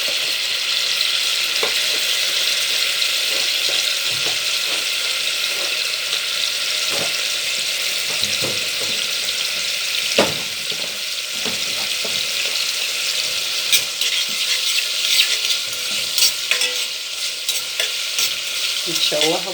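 Minced garlic sautéing in oil in a pan hisses in a steady, close sizzle, with scattered spoon scrapes and clinks of stirring throughout.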